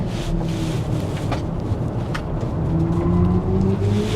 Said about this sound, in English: You hear a little bit of tyre noise there?